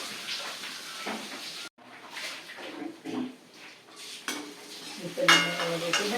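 Onions for tiffin sambar sautéing in a pan, heard as soft sizzling broken by scraping stirs and light clinks of a spoon against the pan, close and intermittent with no talking.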